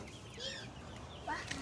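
Chickens clucking outdoors at a home during heavy rain, a few soft fowl calls rising over a steady wash of background noise.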